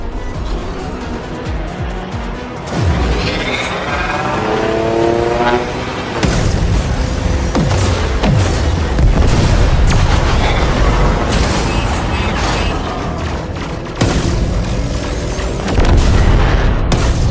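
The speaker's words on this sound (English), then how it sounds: "We need heavy ordnance. Fire torpedoes." Torpedoes launched and detonating in the Warframe video game during a Railjack space battle, with loud sustained rumbling booms and heavy blasts swelling repeatedly over a dense roaring background.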